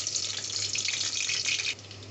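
Chopped onion dropped into hot oil for a beef curry, a steady bright sizzle close by that continues evenly, then eases slightly near the end.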